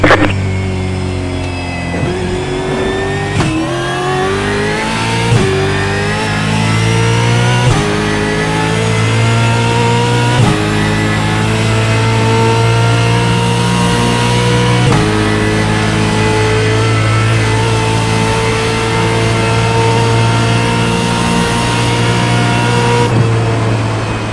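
A V8 Supercar racing in iRacing at Mount Panorama, its loud engine revving steadily and climbing in pitch through repeated shifts, with sharp jumps where gears change, sustained and close with no talk.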